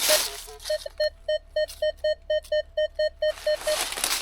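An Equinox 900 metal detector sounds a run of about fifteen short, evenly spaced electronic beeps at a steady pitch, close and clear, during a search on an old Cossack settlement site.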